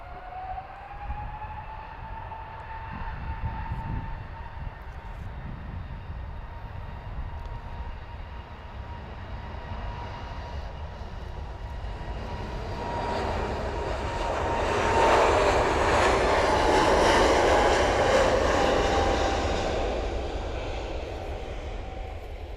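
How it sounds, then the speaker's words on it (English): A fixed-wing aircraft takes off at an airport at lunchtime, its engine roar swelling from a distant whine to a loud broadband rush that peaks near the end, with no talking over it. "let's see some aircraft taking off"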